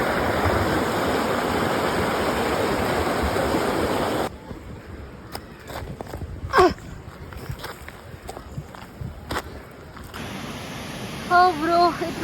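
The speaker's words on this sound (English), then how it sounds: "We finally spotted the waterfall. This is the waterfall." A steady wash of falling water roars from a hidden waterfall in Sakleshpur, loud and continuous at first, then dropping to a softer background rush as brief sounds and voices come through.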